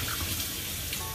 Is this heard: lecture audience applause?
no